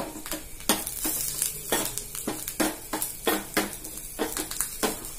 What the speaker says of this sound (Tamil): அதுக்கப்புறம் வேப்பம்பூ ஆட் பண்ணி நல்லா வதக்கலாம்.